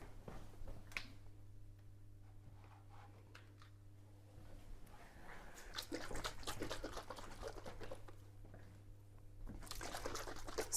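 Water pours and trickles from a makeshift DIY refill setup into a large home aquarium tank, a steady splashing stream that swells louder in the second half, with faint background hum and no talk.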